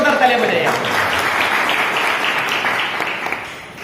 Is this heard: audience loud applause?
yes